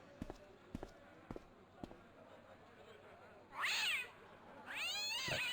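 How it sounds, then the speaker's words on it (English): In the adventure game Broken Sword Director's Cut, a cat being petted lets out a short meow, then a longer drawn-out yowl, after a few soft taps. "That cat does not like being petted."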